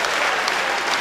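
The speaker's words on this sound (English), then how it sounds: "can I please have a round of applause?" Audience at a Muay Thai fight event applauding the fighters, dense, steady clapping from a crowd filling the whole moment.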